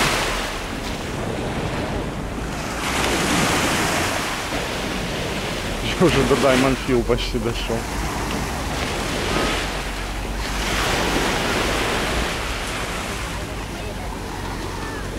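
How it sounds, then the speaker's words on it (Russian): Waves break continuously on a busy Alanya beach in Turkey, a broad steady surf roar with wind buffeting the microphone while someone talks over it. "вот такое это на сегодня море у нас"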